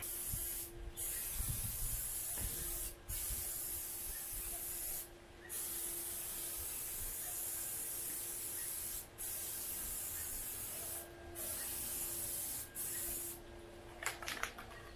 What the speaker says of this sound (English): So that's the adhesive spray.